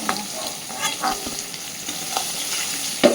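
Rohu fish fry in hot oil as pieces are lifted out. A constant sizzle runs under intermittent stirring scrapes and clinks, with a louder knock at the end.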